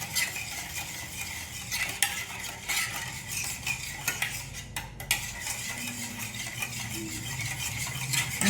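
Curd and sugar are beaten together for a cake batter, a utensil whisking against the bowl in continuous, rattling strokes with occasional sharper clinks, close and steady with no talking.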